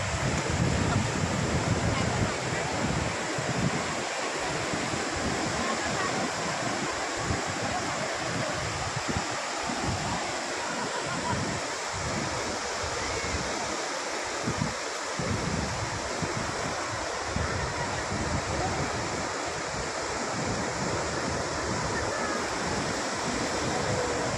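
Big ocean waves surge and break continuously at Bhate beach, a steady loud roar of surf with wind buffeting the microphone throughout.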